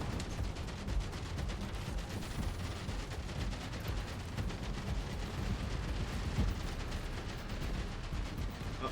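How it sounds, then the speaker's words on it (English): Missile barrage strikes in the sci-fi base-defense game Outpost: Infinity Siege make a dense, continuous rumble of overlapping blasts and gunfire, steady and loud throughout with no talking. "I still really like the missile barrage as that."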